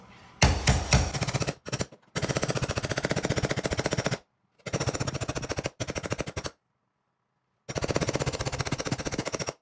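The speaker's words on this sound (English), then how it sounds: "Go crazy on the hammer." A hammer pounding a clip back into place on a Chrysler car, delivered in long bursts of very rapid metallic blows separated by short pauses, loud and close.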